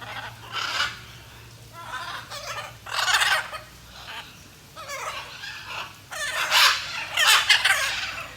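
A noisy flock of zoo parrots squawks and bickers in loud, harsh, overlapping bursts that come in irregular clusters, with the most intense calls near the end.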